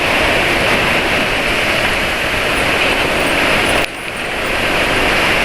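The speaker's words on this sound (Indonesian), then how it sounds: "anginnya kencang sekarang" Strong outdoor wind roars loudly and steadily against the microphone as a broad, rushing buffet, dipping briefly near the end before building again.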